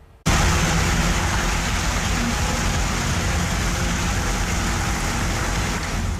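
Heavy monsoon rain pours down in Bihar, a dense, continuous hiss of water that starts abruptly and stays loud and even to the end.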